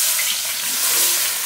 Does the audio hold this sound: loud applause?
no